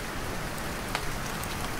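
Rain falling steadily on a hike along the Tour du Mont Blanc trail, a soft even patter with a few louder drops, no talk.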